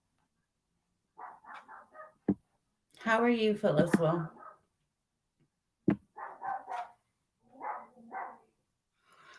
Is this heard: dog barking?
yes